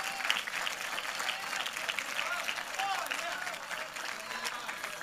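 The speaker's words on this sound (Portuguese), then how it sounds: "os que desejarem, aplaudam ao Rei dos Reis" A church congregation breaks into steady, dense applause that fills the room throughout, with voices cheering and calling out over the clapping.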